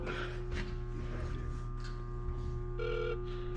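A telephone rings indoors in repeated electronic tones over a steady hum, with faint background voices.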